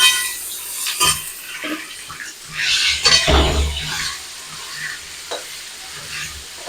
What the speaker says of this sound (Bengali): আলুগুলো দিয়ে একই সাথে ভেজে নেবো ভালো করে।